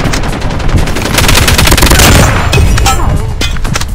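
Rapid, loud gunfire bursts from Call of Duty Mobile in a multiplayer hardpoint match, dense automatic shots crackling close and continuously throughout.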